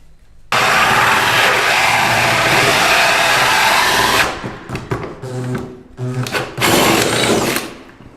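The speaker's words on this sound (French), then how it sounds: "Et donc je vais venir percer maintenant ici." A power drill whirs loudly and steadily up close while boring from underneath into the wooden structure of an insulated garden studio, then winds down into a few short bursts and one more burst.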